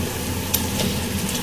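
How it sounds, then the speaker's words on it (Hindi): Chicken karahi masala being roasted in oil over a high flame, giving a steady, close sizzle throughout with faint stirring clinks. "इसको हमें थोड़ा हाई फ्लेम पे भूनना है"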